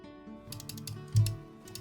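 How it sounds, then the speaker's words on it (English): Mechanical computer keyboard typed on during a game, a run of quick close clicks and clacks in uneven bursts with a heavier thump partway through, no talk. "you can hear every single click and press of the keyboard"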